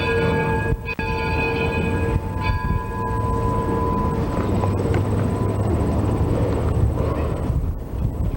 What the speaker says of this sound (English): a steam train.